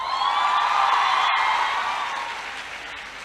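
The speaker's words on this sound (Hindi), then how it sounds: "ये तालियां जो है ना वो लड़कों की तरफ से ज्यादा बजनी चाहिए।" A large audience at a student scholarship event applauds in a dense, sustained wash of clapping that swells and then slowly fades, with no talk over it.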